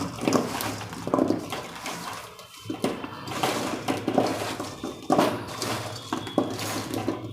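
Wet clattering and scraping inside a metal vessel as whole amla (Indian gooseberries) are stirred and tossed, continuous with uneven knocks.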